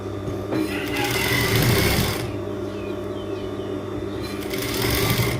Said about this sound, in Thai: เย็บตะเข็บข้างทั้งสองข้างเลยนะคะ